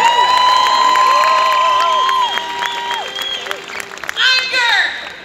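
Loud crowd cheering and applause at a student protest march in Dublin city center, with whoops and shouts over clapping and strong tonal voices or whistles mixed through the noise.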